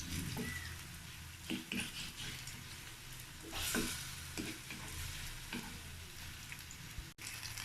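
Banana pitha cakes fry in oil in a pan, a steady close sizzle broken by scraping and clinking as the cakes are turned.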